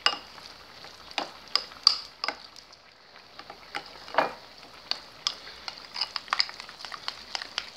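Rice-and-cheese ball batter frying in a pan of hot oil gives a steady, close sizzle with scattered sharp pops and crackles throughout, with no talking.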